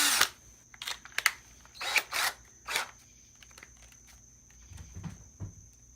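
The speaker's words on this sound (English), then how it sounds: "take the wood screws and screw them into the pilot holes" A drill with a Phillips bit drives wood screws into pilot holes in pallet wood, giving several short whirring bursts separated by quiet pauses, with faint low knocks near the end.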